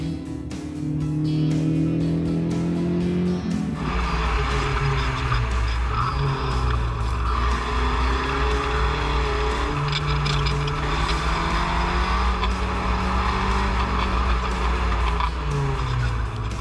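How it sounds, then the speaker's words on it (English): A Spec Racer Ford race car driven on track, its engine droning loud and close from the cockpit as it climbs through the gears, revs rising and dropping steadily with each shift over a constant rush of road and wind noise. "The crisp shifter is a blast to run through the gears."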